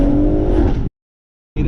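A BMW M140i inline-six with a downpipe revs loudly and raspily for nearly a second, then cuts to silence before the engine note briefly returns at the end.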